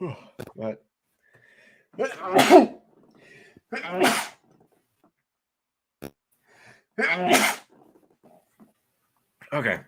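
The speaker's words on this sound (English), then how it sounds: "I got the sneezes out of my system." A few sharp sneezes burst out between short bits of nearby speech, loud and abrupt with quiet gaps around them.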